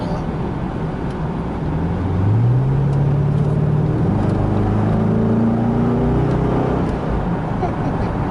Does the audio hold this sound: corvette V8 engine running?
yes